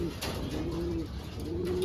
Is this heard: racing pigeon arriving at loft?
yes